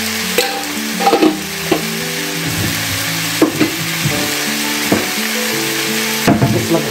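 Mixed vegetables sautéing in a pan, a steady frying sizzle broken by repeated clanks and scrapes of stirring, close and fairly loud with no talk.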